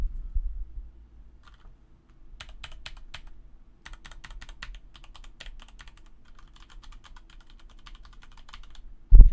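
Mechanical keyboard with flat, non-clicky linear-tactile switches typed in bursts of rapid key presses, fairly quiet and close, with a louder knock at the end.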